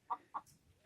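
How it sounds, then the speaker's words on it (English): Chickens cluck in a backyard coop, two short close clucks in quick succession, then quiet with no talking. "There's chickens all over the place."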